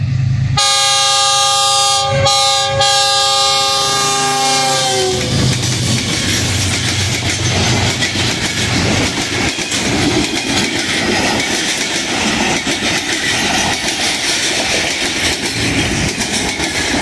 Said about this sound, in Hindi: अवाम की अवामी एक्सप्रेस आ रही है G20 के साथ